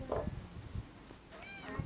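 A cat meows a few times, fairly faint, with some background noise and a soft murmur around it.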